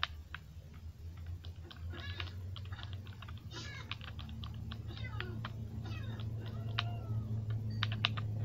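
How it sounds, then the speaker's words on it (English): A cat in a survival video game meows several times in short cries over steady background noise and a low hum, mixed with keyboard clicking. "It's a cat!"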